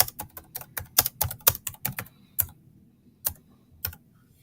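Keys on a computer keyboard clatter in a quick burst of close, crisp typing, then slow to a few scattered taps with short pauses between.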